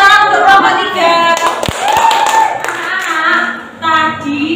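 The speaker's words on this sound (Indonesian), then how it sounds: "Tepuk tangan untuk kelompok 3." A class of children claps for a group of classmates, a dense run of close hand claps with voices mixed in throughout.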